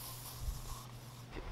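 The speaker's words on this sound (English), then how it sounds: "and most importantly, bug spray." Aerosol bug spray hissing from a can beside a Florida river, a steady broadband spray lasting about a second and a half, close to the microphone, with no talking.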